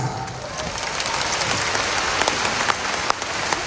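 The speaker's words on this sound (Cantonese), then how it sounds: "今日呢個掌聲唔係淨係俾我嘅" An audience applauds at a stage event honouring lyricist Lo Kwok-chim: dense, steady clapping fills the whole stretch at an even loudness, with a few sharper individual claps standing out near the end.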